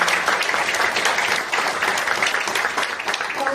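A seated audience breaks into dense, sustained applause at a public event in Crikvenica, many hands clapping loudly and evenly, close and without pause.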